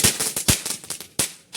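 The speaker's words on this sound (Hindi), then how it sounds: "पटाखा" Diwali firecrackers bursting in a series of sharp, loud cracks, several close together and irregularly spaced, with no voices in between.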